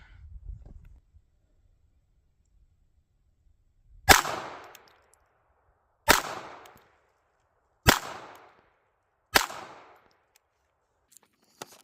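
Four sharp pistol shots on a range using a CVLIFE Wolf red dot sight, evenly spaced about two seconds apart. Each is a loud crack with a short fading tail, after a faint low rumble at the start.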